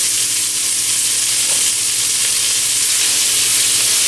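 Onions fry in bacon grease in a hot pan, making a loud, dense, unbroken sizzle close to the microphone.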